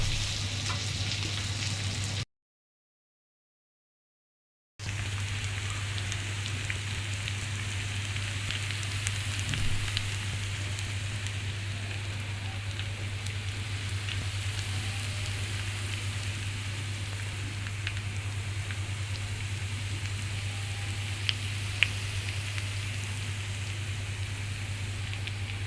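Sausage and kofta fry in a pan with a steady, close sizzle that runs nearly unbroken the whole time, apart from one brief gap near the start, with no talking.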